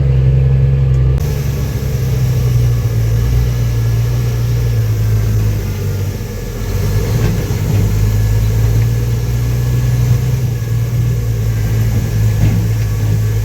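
A dump truck towing a Plymouth 8-ton locomotive drones along in third gear on gravel, its engine a loud, steady low rumble heard from inside the cab with no pause.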